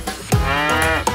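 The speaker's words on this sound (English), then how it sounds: "Cow!" In a children's farm song, a cow moo sounds as one sustained, tonal, rising-and-falling low call lasting about a second, clear and close, with music around it.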